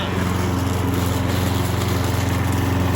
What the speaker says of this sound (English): This is Jack's first time using a lawnmower.